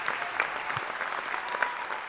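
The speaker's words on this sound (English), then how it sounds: "Canned applause. we can do that." A canned applause effect plays on an empty studio set during a festive phone launch show, a uniform crackle of recorded clapping lasting about two seconds with a few sharper claps standing out.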